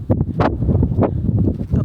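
Hurricane wind buffets an open roadside, a low rumbling roar of gusts against the microphone with uneven surges and brief rustling peaks, loud and continuous throughout.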